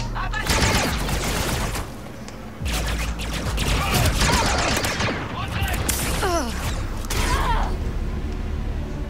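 A grenade blast and bursts of gunfire in the Star Wars Outlaws video game on PS5, loud and dense combat noise running throughout, with a character's voice crying out briefly over the din.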